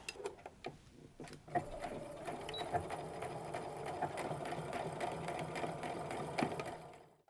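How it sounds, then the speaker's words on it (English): A sewing machine stitches apron pockets in rapid, rhythmic runs, pausing briefly between passes of forward and back stitching, close and fairly quiet with no talking. "so I'm going to sew up to it and then do my back stitching forward and back to secure those threads"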